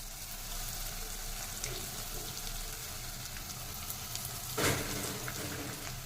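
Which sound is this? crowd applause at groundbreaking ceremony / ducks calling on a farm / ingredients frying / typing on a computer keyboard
ingredients frying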